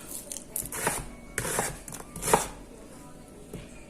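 A knife chops through a whole onion on a cutting board, several crisp uneven strokes in quick bursts, close and moderately loud, then the cutting slows and fades near the end.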